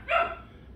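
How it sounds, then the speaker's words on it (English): A dog gives a single short bark indoors in a home kitchen, fairly close and loud, then quickly fades into quiet room tone. "Sorry for the dogs."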